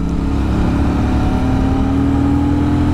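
Royal Enfield Super Meteor 650 parallel-twin motorcycle engine running steadily on a ride heading into a town, a continuous loud, even drone with a low tonal hum and no talk over it.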